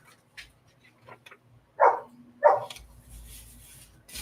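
A dog gives two loud, close barks about half a second apart inside a home, with faint household noises and quiet shuffling around them and no talking.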